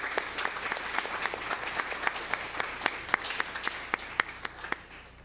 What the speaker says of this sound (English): So let's give one round of applause for Miss Matlock.